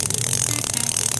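A rapid, fast ratchet-like buzz from a modified thread-type bicycle cog/sprocket freewheel, sounding as a dense, steady stream of clicks close up and fairly loud, with no talking.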